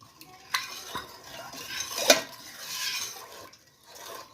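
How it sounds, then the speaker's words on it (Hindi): A spoon stirs an almond and milk drink mixture in a pot before heating, making close, continuous scraping and swishing sounds with a few sharper clinks against the metal. "इसे अच्छी तरह इसमें मिक्स कर लूँगी।"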